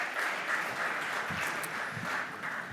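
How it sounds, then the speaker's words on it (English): An audience at a sustainability event gives a speaker a steady round of applause, a dense wash of clapping that holds for the whole stretch with no talk over it. "Can we have a big round of applause for such a great personality being among us?"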